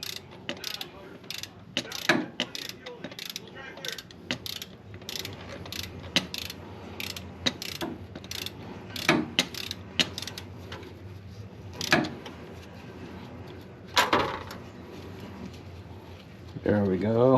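A ratchet wrench clicks in quick bursts while loosening bolts during an oil change on a Harley motorcycle, short repeated ratcheting runs spaced between pauses, with someone talking now and then.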